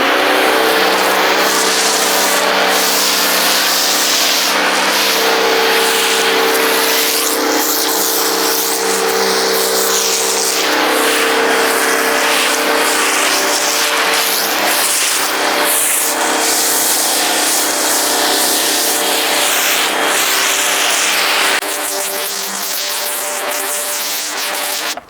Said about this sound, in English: what I'm going to do now is just foam the car fully, ready for cleaning